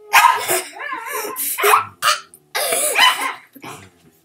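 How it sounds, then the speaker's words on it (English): A dog barks excitedly indoors, loud and close, in several irregular bursts with whiny, yelping tones and brief pauses between them. "That's the dog. We get the dogs a little excited around here."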